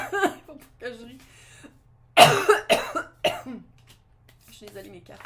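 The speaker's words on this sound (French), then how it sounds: "Vraiment toussé dessus" A woman coughs in a few sharp bursts, one loud fit in the middle followed by smaller coughs, with soft talking before and after.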